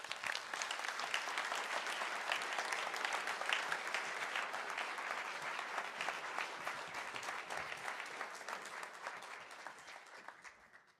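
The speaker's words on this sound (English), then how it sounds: "please, everyone, one more applause" Steady, dense applause from an audience at a university research day and doctoral ceremony after a solo harp performance, sustained for about ten seconds and fading at the end; faint and distant with no talking.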